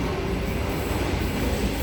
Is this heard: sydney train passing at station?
yes